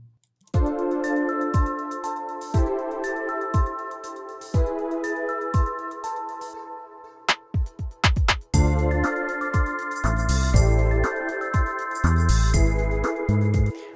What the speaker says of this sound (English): you can just build up your own drum fill, which would sound like this.